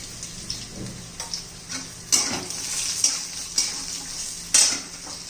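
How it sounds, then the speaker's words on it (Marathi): Cumin, coriander powder and red chili powder frying in hot oil for masala bhindi, a steady close sizzle broken by sharp spoon clinks and scrapes against the pan. "सर्व छान असं तेलामध्ये भाजून घ्यायचे"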